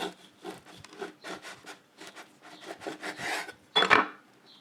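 A serrated Wusthof stainless steel knife saws through a loaf of dark beer bread in rapid back-and-forth strokes, giving a raspy crusty scraping that builds to a louder crunch near the end.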